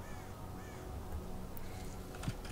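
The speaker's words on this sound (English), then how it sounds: "The birds are a nice touch." Crows cawing in the ambient soundscape of the video game STALKER Call of Pripyat, a few faint distant caws over a low steady background hum.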